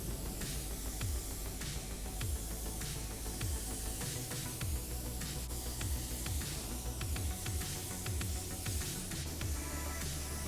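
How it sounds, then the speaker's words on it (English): A DeVilbiss DV1 spray gun lays wet sealer onto a Chevy truck bed, giving a continuous close airy hiss with short pauses and bursts as the gun is triggered. "I am applying my sealer wet to ensure a flat foundation for my metallic base."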